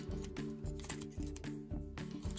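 Scissors snip paper repeatedly, several close crisp cuts in a steady rhythm, while an origami figure is trimmed.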